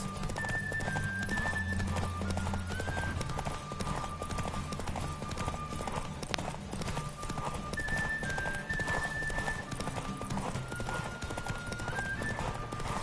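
Horse hooves clip-clop at a steady galloping rhythm through a race in The Witcher 3, with game music and occasional whinnies layered over the continuous, fairly loud hoofbeats.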